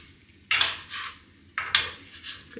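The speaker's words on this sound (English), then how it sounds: "So now you can just give it a stir and coat the meatballs in the sauce if you want to." A utensil scrapes and stirs meatballs in creamy gravy in a pan. Two distinct sharp scrapes are each followed by softer swishing strokes, close and fairly quiet, with no talking.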